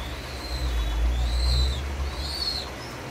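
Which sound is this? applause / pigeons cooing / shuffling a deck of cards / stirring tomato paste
pigeons cooing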